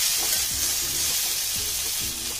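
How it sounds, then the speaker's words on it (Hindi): Sliced amla gooseberries fry in a hot pan with a steady, loud sizzle that never stops, while a spoon scrapes and stirs through them in repeated strokes. "आंवला डाल के इसे मिक्स करें, अच्छी तरह से मिक्स कर लें"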